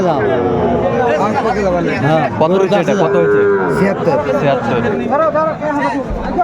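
Sahiwal cattle at a livestock market in Kurigram give several loud, drawn-out moos close by, overlapping with people chatting nearby.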